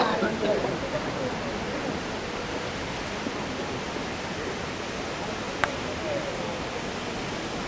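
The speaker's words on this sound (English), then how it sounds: "And yet there's clearly a lot of water flowing down it." Water rushing steadily down a stone drainage channel below the old town wall in Ronda, Spain, a constant broadband roar that holds evenly throughout with no pauses.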